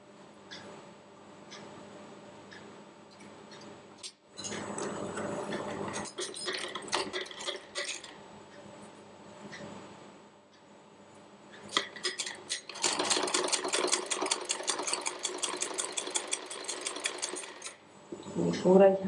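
A sewing machine stitches cloth for a front-button bra in bursts, with rapid ticking runs of needle clatter separated by quiet pauses and soft handling sounds. A brief voice is heard at the very end.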